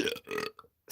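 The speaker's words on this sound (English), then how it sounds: "See, I can make myself burp by doing that." A person makes himself burp on purpose, producing two short, close guttural burps separated by a brief pause, with no talk over them.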